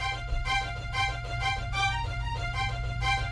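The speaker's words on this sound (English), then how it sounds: "you can hear that music playing a little bit lower in the background" Background music plays at low level from a list in vMix, a steady rhythmic track with a constant bass line and regular pulses, fairly quiet and alone with no voices.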